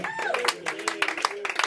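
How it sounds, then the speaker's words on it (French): Church congregation clapping in a quick burst of sharp hand strikes, with a voice sounding over the applause from start to finish. "Applaudissez pour lui"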